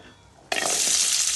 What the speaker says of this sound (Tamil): இப்போ வந்து வெங்காயம் வணக்கிற அளவுக்கு நமக்கு தேவையான அளவு எண்ணெய் ஊற்றிக்கலாம்.